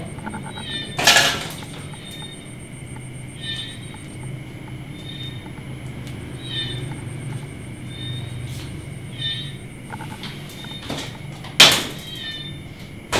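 A door is opened on a film set, with a sharp knock near the start and another clack near the end over a low, steady room hum.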